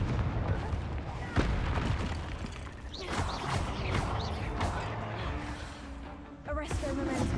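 Fire-spell blasts cast in Hogwarts Legacy, a series of booming explosive bursts with crackling tails, some sharp and others rolling, mixed with game effects and a voice speaking between them.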